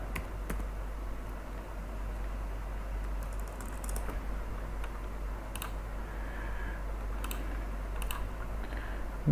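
Fingers type on a computer keyboard in quick, soft bursts of clicking keystrokes spread across the stretch, faint and close, over a low steady hum.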